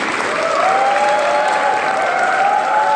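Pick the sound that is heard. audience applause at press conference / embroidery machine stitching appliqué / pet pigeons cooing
audience applause at press conference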